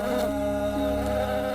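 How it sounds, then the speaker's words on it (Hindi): A steady, droning buzz of bees continues throughout, close and fairly loud, with no talking. "साईं, ये तो मधुमक्खी का छत्ता लेकर क्यों घूम रहे हो?"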